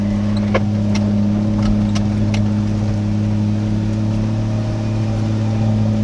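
Barra-engined Toyota FJ45 Landcruiser driving in the Victorian High Country, a steady loud engine drone with turbo boost running throughout, a few brief clatters on top and no talk.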